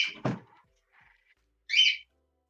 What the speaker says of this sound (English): Sometimes when they hear me talk, they're just like, oh, they just start chirping away at me.